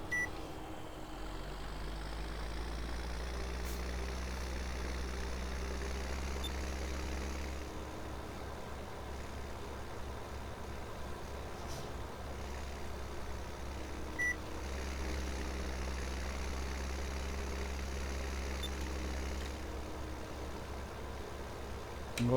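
A Farming Simulator 17 tractor of roughly 150 to 180 horsepower runs steadily in the game, a constant low engine drone with slight shifts in pitch and no speech over it.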